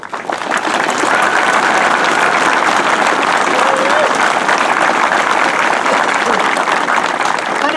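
Sustained loud audience applause for a Navy Vietnam veteran at an honor flight event, a dense steady wash of many hands clapping with faint crowd voices mixed in.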